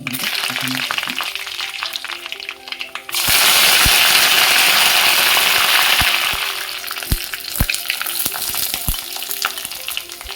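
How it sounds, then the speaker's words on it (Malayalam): Mustard seeds hit hot coconut oil in a pan for drumstick theeyal, setting off a loud burst of sputtering after a quiet start, followed by scattered sharp pops and crackles that taper off. "എണ്ണ ചൂടായി വന്നിട്ടുണ്ട്. നമുക്ക് കടുക് ഇട്ട് കൊടുക്കാം"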